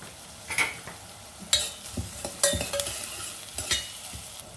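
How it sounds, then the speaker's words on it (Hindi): Three medium onions with a little salt sauté in oil in a pan, with a loud close sizzle broken by repeated scraping stirs of a spoon, with no talk. "तो प्याज हल्के से सॉटे हो चुके हैं।"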